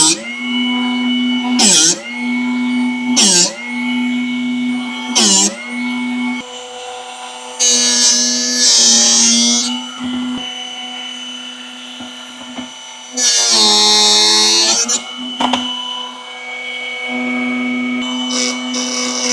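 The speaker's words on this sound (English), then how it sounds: "So I'm using a drill doctor to sharpen the drill bit." A Drill Doctor grinding a drill bit sharp, with several short bursts of whining motor and grinding, then longer buzzing passes, and steady motor hum between them.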